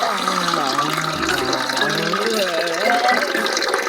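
Water runs steadily from a tap in a van plumbing system, gurgling and rising in pitch as it fills a container, while a voice talks over it.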